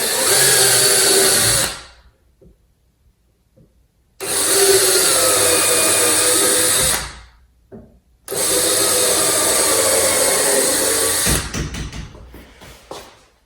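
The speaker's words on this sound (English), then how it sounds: "I'm just going to drill using a much smaller diameter drill bit than the screw itself" A small power drill whirs in three bursts of a few seconds each, separated by silent pauses, close up and loud, drilling pilot holes for door hinge screws on a door frame.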